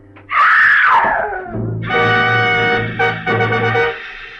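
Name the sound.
woman screaming, radio drama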